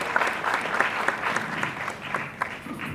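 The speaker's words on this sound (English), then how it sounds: "Can we have a huge round of applause, ladies and gentlemen?" Audience applause at a digital audio service launch event, a steady wash of clapping with a few sharper claps standing out, filling the room for about three seconds.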